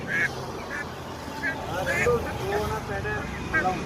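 Ducks quack repeatedly among roadside poultry sellers, short nasal calls rising over a busy street with traffic and people talking nearby.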